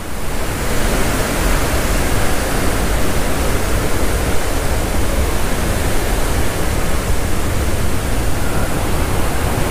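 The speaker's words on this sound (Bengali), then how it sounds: "আর এই ঝর্ণাটা থেকে এই নদী বেরিয়ে যাচ্ছে" Roaring rush of the Rajpuri waterfall in Jashpur, a dense, steady wall of falling water heard up close and loud throughout, with no voices.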